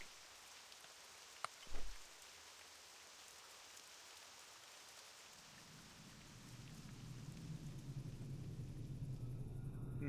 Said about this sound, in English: Can enjoy the sound of the rain while we have it.